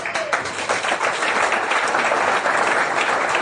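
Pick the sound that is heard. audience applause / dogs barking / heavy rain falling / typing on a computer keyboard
audience applause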